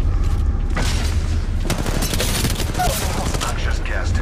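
Gunfire in the mobile game Apex Legends Mobile, a loud, dense run of rapid shots and booms with mechanical clatter, close and continuous throughout.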